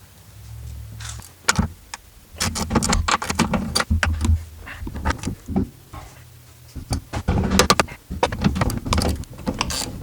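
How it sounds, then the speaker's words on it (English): Ratchet clicks and metallic taps come from a wrench loosening two 14mm shock tower bolts at the top of a Honda S2000 during a front coilover install. The bursts are close, sharp and irregular, with short pauses between them. "Now I'm going to go to the top of the car and remove the two 14mm shock tower bolts."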